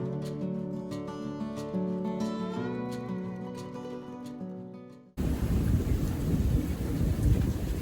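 Steady rain pours down on a farm during a thunderstorm, a dense, constant wash of falling water with no speech, shifting abruptly midway to a louder, rougher roar of downpour.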